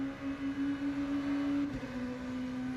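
An endurance race car engine at Circuit de la Sarthe in the racing game rFactor 2 holds a steady, high-revving drone that stays loud and even throughout, with a slight dip in pitch near the end.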